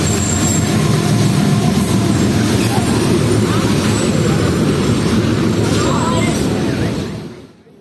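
A train rolls steadily along the railway tracks after a five-minute halt, pulling away toward Rohri Junction. The rumble stays loud and continuous with faint wheel squeal, then fades out abruptly at the end.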